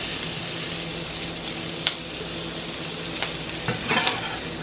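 Blackened shrimp sizzle steadily in a hot pan on a switched-off stove, with a few scattered scrapes and clinks of a utensil as they are lifted out, close and continuous.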